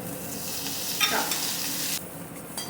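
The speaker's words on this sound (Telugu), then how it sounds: "నూనె వేసుకుందాం కుమగుమలాడుతుంది పచ్చిది వేయిస్తున్నాం కదా" Mint leaves and peanuts fry in a spoonful of oil, giving a close, continuous sizzle with a brief stirring clatter midway that drops to a quieter hiss toward the end.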